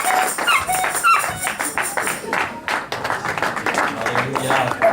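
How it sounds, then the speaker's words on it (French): An audience at a religious gathering applauds and cheers steadily and loudly, with dense rapid clapping throughout and voices mixed in. "acclamez très très fort pour la gloire de Dieu"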